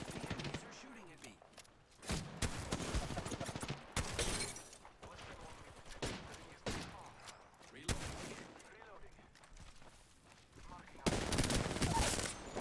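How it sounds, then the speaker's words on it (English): Video game firefight with bursts of automatic gunfire and grenade blasts, loud and close, coming in clusters separated by short pauses, with a voice talking over some of the shooting. "Opening fire on the enemy. The enemies are shooting at me."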